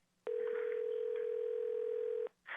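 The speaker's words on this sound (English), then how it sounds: "it's the line of John Agee that is ringing" On a conference call, a telephone line gives one steady electronic tone of about two seconds. It is clear and isolated, with quiet before and after and a brief sound as it ends.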